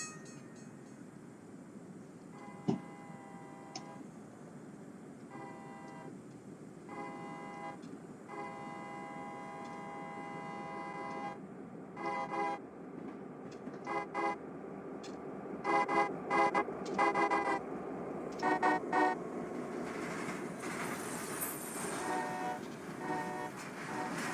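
Train roll-by at a station in Train Simulator 2021, steady rumble of rolling wheels under repeated horn blasts in short and longer groups, growing louder as the train nears.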